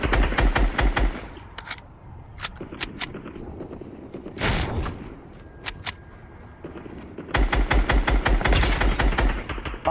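Rapid bursts of laser gunfire in a Fortnite squad match, dense repeated shots at the start and end with sparser single blasts in between.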